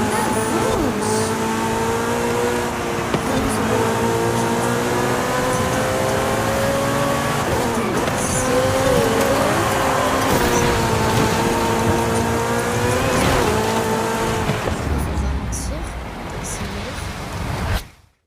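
A race car engine in the video game Forza Horizon 5 revs and accelerates loudly and continuously, its pitch rising and falling through gear changes with brief tire noise. A voice talks over it, and the sound fades out abruptly at the end.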